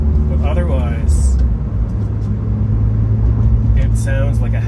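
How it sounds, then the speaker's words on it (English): A car engine idles steadily after a swap into a 2004 vehicle, with a slightly fruity exhaust leak; a continuous loud low rumble runs throughout, with brief faint higher noises over it. "It sounds a little fruitier than it did before. I think I gave myself an exhaust leak with the way that I unhooked some things."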